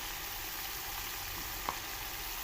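Chicken frying with garlic-ginger paste and green chilies, a steady, faint hiss of sizzling throughout, with one brief soft stir or tap near the end and no voices.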